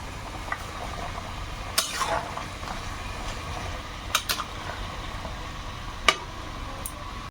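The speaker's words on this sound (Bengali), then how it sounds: "এবারে ভাজা মাছগুলো দিয়ে দেবো" Fried fish pieces go into a simmering elephant foot yam and potato curry with a few soft stirs and clinks of a spoon against the pot, over a steady low bubbling hum.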